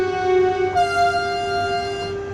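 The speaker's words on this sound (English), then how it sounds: "Bye train." An S1 commuter train in Train Sim World 2 departs Dresden station with a steady, loud tonal hum. The hum brightens partway through as the train pulls away, with no talk.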